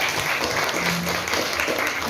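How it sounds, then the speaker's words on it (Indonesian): Classroom applause from a group of students, steady, dense clapping that stays close and loud throughout, with faint voices mixed in. "Oke, tepuk tangan sekali lagi."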